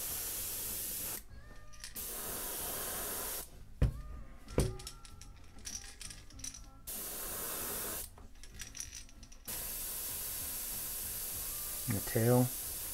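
An airbrush sprays paint onto a flat side coffin bill crankbait lure in several close hissing bursts separated by short pauses, with brief voice sounds between sprays.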